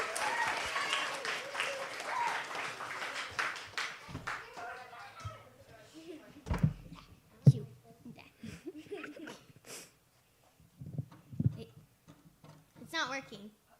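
Audience at a school talent show applauding performers: soft clapping for the first few seconds, then fading into scattered taps, shuffling and brief voices nearby.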